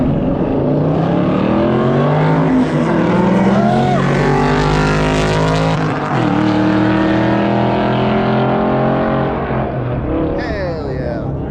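A Ford Mustang at a car racing event roars past with loud, rising and falling engine revs and gear changes that sweep in pitch, sustained through the whole stretch with an announcer's voice over it.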